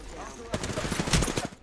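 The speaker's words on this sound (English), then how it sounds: "Opening fire." Rapid automatic gunfire in the video game Apex Legends, a dense burst of quick cracking shots lasting under two seconds.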